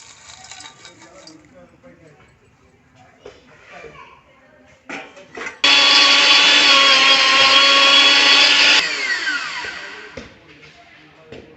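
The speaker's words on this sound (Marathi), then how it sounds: "आता आपण हे या ग्राइंडर मिक्सरमध्ये डिंक बारीक करून घेऊ." A grinder mixer grinds edible gum (dink) for dink ladoo, a steady loud whirring buzz that runs for about three seconds, then cuts off. Quieter handling noises come before and after it.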